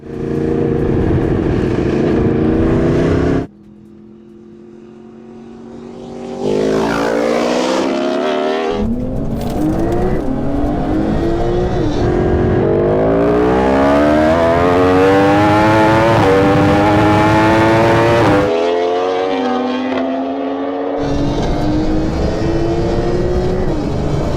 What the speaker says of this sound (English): roll race the bike against the modified cars, working our way back down the levels until the bike takes a win